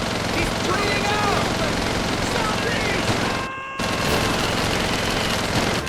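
A captured German machine gun fires during a World War II town battle in Call of Duty 3 on the PS2. The bursts are dense and continuous, with shouting soldiers over them and a brief gap near the middle.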